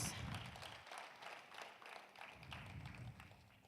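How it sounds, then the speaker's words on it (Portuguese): A church congregation at a worship service stands and applauds, a steady wash of many hands clapping at fairly low volume for about four seconds. "Pode aplaudir a palavra de Deus"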